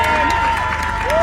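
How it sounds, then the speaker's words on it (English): A crowd at the Peak District Highland Games 2024 applauds and cheers a strongman competitor at the log press event, a dense, steady roar of clapping and voices that holds for the whole moment. "big round of applause to his first appearance, Stevie Speedman!"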